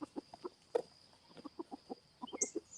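Hen clucking after laying an egg: a run of short, close, moderately loud clucks in an uneven rhythm, with a brief higher squawk near the end and no talking.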